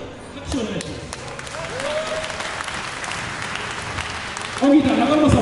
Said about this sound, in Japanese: 素敵なプラスセクションに拍手をお願いします。